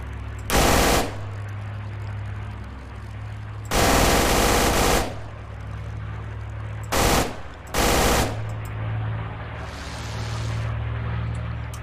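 Four bursts of rapid machine gun fire from a plane in the video game Knights of the Sky, loud and close, separated by pauses over a steady low engine drone.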